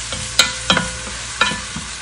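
Green pepper and green onion frying in a pan with a spatula stirring through them, giving a few sharp scraping strikes over a steady low sizzle, close and moderately loud with no talking.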